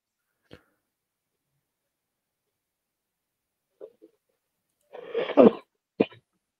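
A few short coughs in otherwise near-silence: a tiny one early, two faint ones, then a louder close cough and one last sharp cough.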